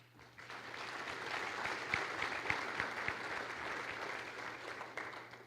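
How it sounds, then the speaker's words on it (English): A symposium audience in a hall gives steady, moderately distant applause that swells and holds for several seconds before trailing off, a few sharper claps standing out. "Please join me in welcoming these individuals with a big round of applause"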